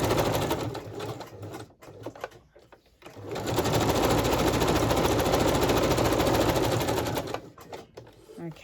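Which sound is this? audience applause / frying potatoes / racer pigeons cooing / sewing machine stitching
sewing machine stitching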